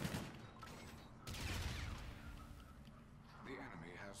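Video game gunfire crackles in dense, continuous bursts from an online shooter match, loud and sustained across the whole stretch, with a player's voice talking over it.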